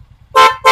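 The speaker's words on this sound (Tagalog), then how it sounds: "Loud horn." A loud, blaring vehicle horn sounds twice in short blasts, close to the microphone, after a brief quiet moment.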